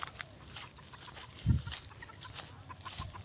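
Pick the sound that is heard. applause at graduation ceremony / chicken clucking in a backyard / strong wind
chicken clucking in a backyard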